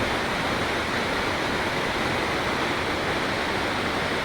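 The Parvati River near Manikaran flows fast, a dense, even roar of rushing water, loud and close, with no voices over it.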